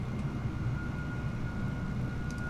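A Bellanca Super Viking taxis in Microsoft Flight Simulator, its piston engine a steady low drone with a faint whine, even and unbroken throughout.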